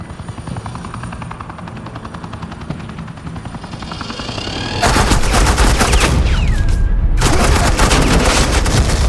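Suppressing gunfire in Batman: The Telltale Series, continuous rattling automatic fire under a steady rotor-like drone, growing louder and denser halfway through, with no voices.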